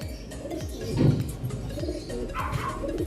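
Racing pigeon cooing in a loft, several soft repeated low coos in rhythmic phrases, close and clear over quiet background with no talking.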